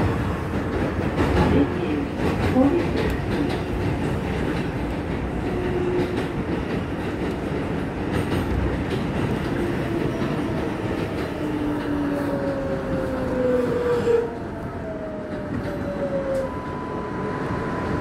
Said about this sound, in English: This is a Manhattan bound 7th local train.